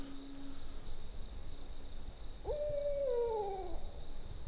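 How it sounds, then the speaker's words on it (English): An owl hoots once in the woods, a single drawn-out wavering call from a moderate distance over a steady insect drone and quiet background. "Hey, does that owl sound off to you?"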